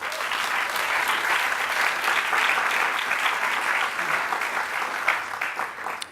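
Sustained applause from an audience welcoming a speaker at a university event, a dense, steady wash of clapping that fills the whole stretch without speech.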